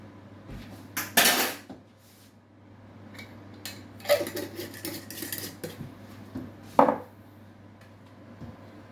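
A metal teaspoon scrapes and clinks against a jar and dish while scooping home-grown crushed garlic for a Korean gut-health recipe, a few separate clatters spread across a quiet kitchen.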